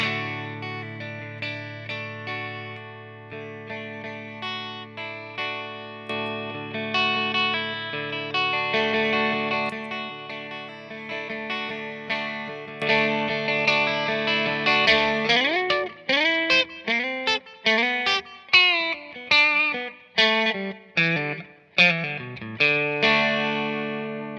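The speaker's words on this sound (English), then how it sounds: "And the volume up, and now I have more of a clean boost." Electric guitar played through a drive pedal set as a clean boost, with the drive turned down and volume up: sustained chords ring out and then give way to quicker, punchier strummed and picked phrases, loud and alone.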